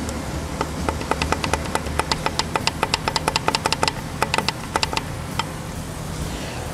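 A 2017 Toyota Hilux engine with a blown connecting rod and failed bearings knocks in a fast, steady run of sharp metallic ticks over a low idle rumble, close and fairly loud.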